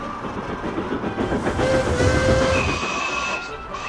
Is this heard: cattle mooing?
no